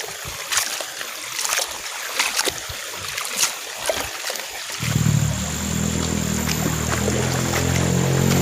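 Chinese betel leaves are rinsed by hand in water, with wet splashes and dripping at first, then a steady running-water gush filling the rest, close by and without talk.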